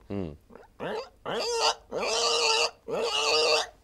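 A voice imitates a pig with a string of grunts and squeals, short at first and then longer, harsher squeals, close and loud with nothing else heard.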